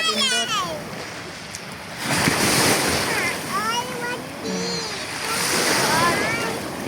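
Clear-water sea surf at a beach during a family swim, with steady wave wash and wind noise rising and falling throughout while people talk and call out nearby.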